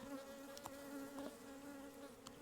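Honeybees buzz inside a hive while crooked comb is pressed down, a steady close drone with a few brief flares in pitch and no voices.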